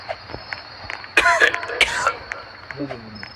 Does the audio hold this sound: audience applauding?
no